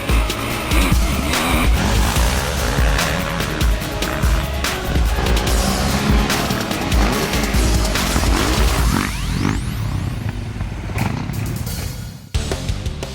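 A 2010 Yamaha YZ250F motocross bike engine screams at high revs, loud and close, the harsh buzzing pitch surging and dropping repeatedly before cutting off sharply near the end, with no voices.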